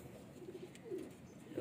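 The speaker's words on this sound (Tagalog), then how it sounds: "Ayan, yung mga ibon, mga kabi. Sa aviary." Pigeons in an aviary loft give a few soft, low coos, quiet and close against faint background noise.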